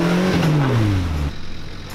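An off-road vehicle on Old Whangamomona Road, a back road in Taranaki, revs its engine hard to climb out of a hole, the pitch rising and falling loudly and close before dropping to a low idle.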